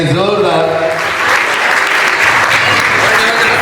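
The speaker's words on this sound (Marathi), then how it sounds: "कुणालसाठी एकदा टाळ्या वाजवायच्या सगळ्यांनी जोरदार." Loud applause from a crowd of guests fills a 50th birthday party, starting right after a brief spoken phrase and continuing as a dense, steady clatter of clapping to the end.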